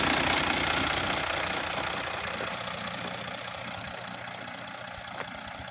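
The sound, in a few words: Mercedes V6 diesel engine idling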